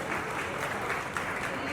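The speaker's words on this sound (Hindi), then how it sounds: "तालियों से स्वागत करें।" At a pichchhika parivartan ceremony in Indore, a crowd applauds to welcome guests with dense, steady clapping that holds at an even level throughout.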